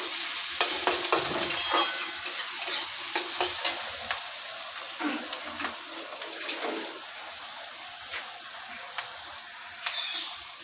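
Onions fry in oil in a pan for potol dorma, a steady close sizzle broken by repeated scraping stir clicks, busier in the first few seconds and then settling into an even hiss.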